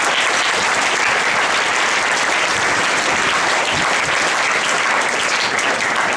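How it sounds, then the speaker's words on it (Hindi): Loud, dense applause from a school audience at an Independence Day function fills the whole stretch, steady and unbroken with no voices over it. "एक बार उनके लिए भी जोरदार तालियां"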